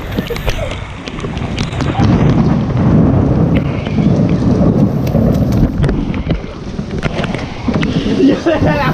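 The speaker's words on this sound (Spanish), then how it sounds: "Como ustedes pueden ver, está lloviendo." Heavy rain pours down outdoors with low rumbling like distant thunder, a steady loud wash of water with scattered sharp splashes and knocks close by.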